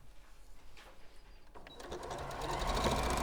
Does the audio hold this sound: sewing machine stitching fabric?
yes